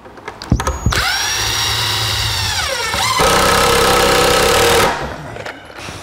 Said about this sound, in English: we'll put some screws in to temporarily hold it in place.